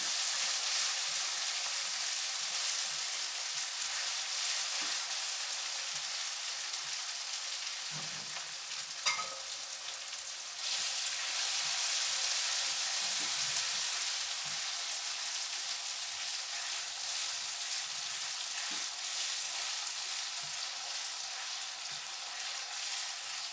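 Ginger fries in hot oil in a pan for Gujarati ringan no oro, a long, even, close sizzling hiss with soft stirring scrapes and one sharp clink partway through.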